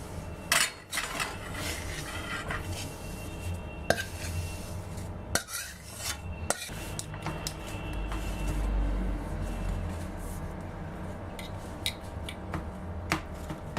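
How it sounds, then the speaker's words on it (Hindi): A spoon scrapes and presses a warm wheat flour and jaggery mixture across a metal plate while making gol papdi, with soft rubbing strokes, light clinks and brief taps, fairly quiet and steady throughout. "इस चम्मच की सहायता से अच्छी तरह से प्रेस करते हुए चारों तरफ हम फैला लेंगे"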